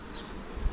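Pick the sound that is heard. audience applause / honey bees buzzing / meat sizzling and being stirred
honey bees buzzing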